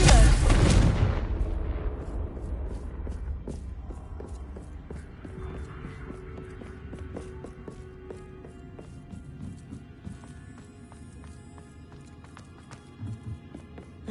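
A Confringo blasting spell in the Hogwarts Legacy video game sets off a loud, booming explosion that decays into a long rumbling tail, with lighter clattering and thuds fading in the background afterward.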